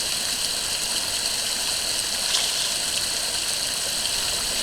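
A mountain trout creek above Cougar Lake runs steadily, with a loud, continuous rushing of water over rocks that holds even and unbroken throughout.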